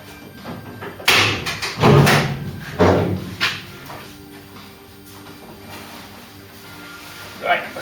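Door being removed from a Mk3 Ford Cortina during restoration: several heavy metallic thumps and clunks at irregular intervals, fairly close, with light handling noises between.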